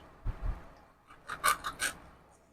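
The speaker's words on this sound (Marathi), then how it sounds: "असे आपण सगळे मासे कापून घेऊ" A knife scrapes and cuts through fish in several short, close rasping strokes, quiet and alone after a couple of dull thuds.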